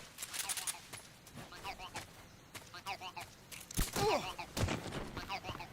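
Gunfire from a video game, aimed at a tree, comes as scattered quiet sharp shots among other game sounds. A voice talks over them at a low level.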